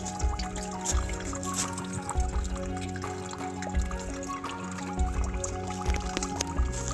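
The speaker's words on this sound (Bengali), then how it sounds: "দেখতে পাচ্ছ কত জল পড়ছে এখান থেকে ভালোভাবে এটাকে চেপে চেপে নিংড়ে জল বের করে নিতে হবে" Water trickling and dripping steadily as soaked urad dal is squeezed and wrung out by hand, a continuous close splattering stream with small bursts as the grip tightens.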